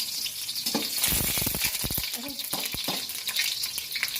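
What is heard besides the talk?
garlic frying in hot oil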